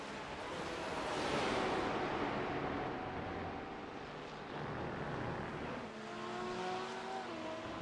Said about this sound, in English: But Mason will have a little bit of a draft for a very short amount of time off that LMP2